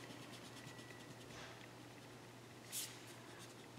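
A math problem written out by hand, with faint, steady scratching of the writing tool on a board and a short louder scrape near the end, no talking.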